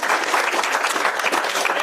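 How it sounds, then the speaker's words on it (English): A school board meeting audience gives a short burst of steady applause, dense clapping from many hands filling the room at a fairly loud level. "We'll give her a round of applause."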